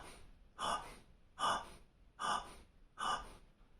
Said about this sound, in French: j'inspire par la bouche, j'expire par le nez